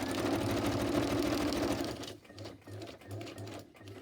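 Domestic sewing machine running a zigzag stitch over fabric scraps, a steady loud whirring hum for about two seconds, then a series of short bursts as the machine starts and stops.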